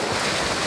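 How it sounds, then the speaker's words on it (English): Trainees in a circle splash in open water at a sea-survival drill, a steady broadband wash of close splashing and surf-like noise with wind buffeting, loud and continuous with no talk. "they form a circle and splash in the water to make themselves more visible to aircraft"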